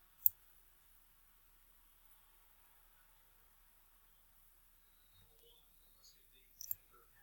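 Two sharp computer mouse clicks, one near the start and another near the end, faint and close in an otherwise quiet room with light background hiss.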